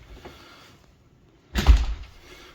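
A door swings shut with a soft thud, its latch failing to catch in the strike plate, heard once, close and fairly loud after a quiet pause.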